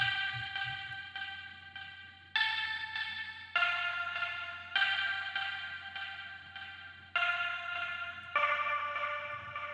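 A vocal one-shot from a sample pack, drenched in heavy reverb and delay for a reggaeton beat, repeats in washy bursts that echo and tail off, alone and fairly quiet over a low steady hum.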